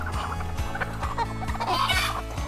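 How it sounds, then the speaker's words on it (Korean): A flock of native-breed hens squawk and cluck loudly and continuously on a poultry farm after their eggs are collected, a dense overlapping chorus of agitated calls close by. "계란을 빼앗겨 울부짖는 닭들에게는 조금 미안하지만"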